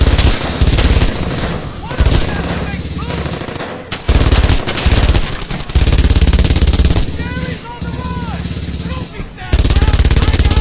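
Bursts of .50 cal machine gun fire in the Brothers in Arms: Hell's Highway video game, loud rapid rattling volleys broken by short pauses, repeating over about ten seconds, with no talk.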